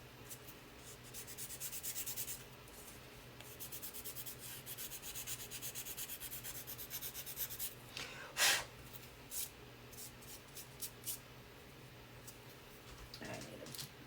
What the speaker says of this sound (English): sand this kind of quickly. What I'm going to do is like go around the outside edge and the corners.